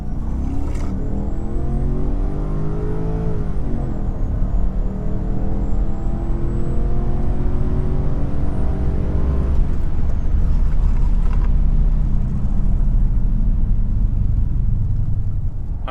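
A Nissan Cima accelerates hard, its engine note climbing through the gears with a brief dip at a shift, then holding a loud steady rumble with road and wind noise from inside the car.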